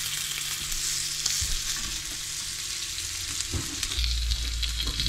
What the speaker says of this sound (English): All right, so I got some sausages, just a few.